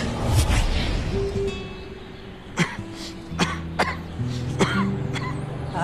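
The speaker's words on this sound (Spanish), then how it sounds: "Ay, esa tos, esa tos." A few short, sharp coughs scattered over several seconds, fairly close, with a low steady hum underneath and no talking.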